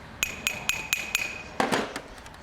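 Five sharp metallic hammer strikes ring out at an even pace on a stuck part of a Renault Master 2.2 dCi engine, followed by a heavier clanking knock and rattle, close up and with no speech.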